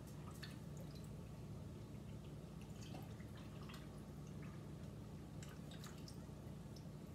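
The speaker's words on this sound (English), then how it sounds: "I'm just putting a half a cup of water in each jar" Water is poured into glass canning jars packed with raw chicken legs, making faint trickles and scattered drips over a steady background hiss. No one speaks.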